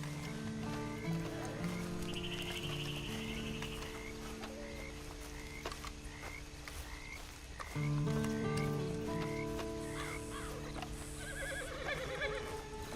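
A horse in the Red Dead Online video game whinnies and its hooves clip-clop along, set in an outdoor soundscape of croaking frogs and chirping wildlife, steady and moderately loud, with no talking.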